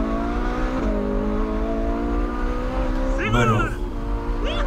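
A dream car's engine revs with a steady, loud, tonal drone that climbs slightly before a brief burst of speech, the engine continuing beneath the talk.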